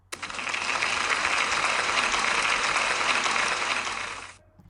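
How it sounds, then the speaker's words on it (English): Dense, steady applause from an audience at a school celebration assembly, rising sharply, holding loud and even for about four seconds, then fading out. "Can we give them a big round of applause, please?"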